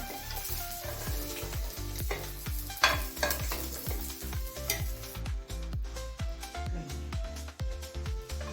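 Eggs roasting in oil in a pan, with bright crackling sizzle and rapid repeated spatula scrapes and taps close up throughout, no voices.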